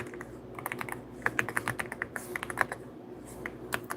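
Rapid typing on a computer keyboard during a live stream, a steady run of close, crisp key clicks with irregular rhythm and occasional louder taps, no talk.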